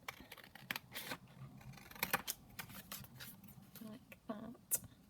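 Scissors snip around glued paper card in quiet, crisp clicks and crunches at an uneven pace, fairly close, with soft rustling of paper between cuts.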